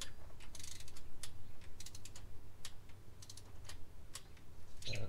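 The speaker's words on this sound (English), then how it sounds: "Go ahead and tighten to hand tight. We're doing 13 foot-pounds again." Rapid ratchet clicks from tightening a spark plug on a 2006-2014 Honda Ridgeline, coming in quick repeated bursts up close over a low steady hum.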